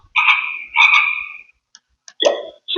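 A talking flash card device plays a recorded frog croak: two long raspy croaks, then a shorter, lower one, loud and close with no other sound.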